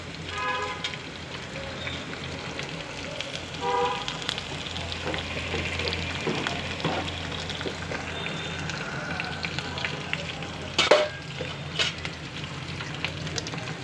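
Green chillies, curry leaves and cumin seeds fry in hot oil while tempering for a bottle gourd stew, giving a steady, close crackling sizzle that runs throughout with occasional sharper pops.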